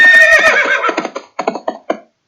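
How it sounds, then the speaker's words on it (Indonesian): A horse sound effect added in a Scratch project: an opening whinny-like call gives way to a series of separate clopping beats, loud and alone with no talk. "Nah ini suara ada horse galop."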